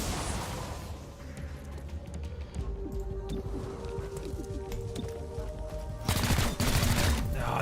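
Gunfire in XCOM: Chimera Squad aimed at an acolyte, heard as a scattered string of moderate shots over game ambience, then a louder, denser burst of fire near the end.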